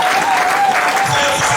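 A French-speaking church congregation applauds during a worship service: dense, steady clapping from many hands fills the room, loud and close, with no pauses.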